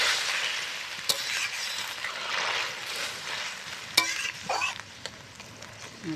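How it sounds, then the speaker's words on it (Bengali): A spoon stirs a fish and water lily stem curry in a frying pan, making a steady soft sizzle broken by a few sharp clinks and scrapes against the pan, with no voices. "এবার এই তরকারিটা এটার ভিতর দিয়ে দিলাম। একটু করে নাড়াচাড়া দিলাম।"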